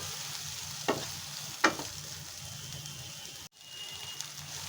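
Salted, turmeric-dusted eggplant sizzles in a frying pan, a constant close crackle broken by a few sharp stirring scrapes and a short gap where the sizzle drops out before resuming.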